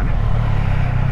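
A 2024 Triumph Street Triple RS motorcycle being ridden gives a loud, steady low engine drone with wind rumble, close and continuous for the whole moment, with no speech over it.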